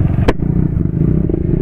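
Motorcycles rumbling loudly and steadily close by on a group Sunday ride in Meghalaya, with one brief sharp clatter near the start and no talking.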